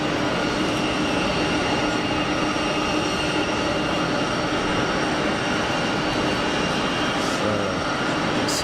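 A United Boeing 767 airliner taxiing at Geneva Airport, a steady loud broadband jet engine roar with a faint whine that holds unchanged throughout.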